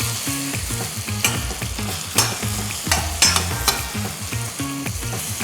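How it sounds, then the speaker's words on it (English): Overripe mango being mashed with the back of a spoon for a prawn and mango curry, giving wet, squelchy strokes and soft taps in an uneven rhythm, close and fairly loud with no talking. "just going to be mashing the mango with the back of my spoon, the overripe mango right here"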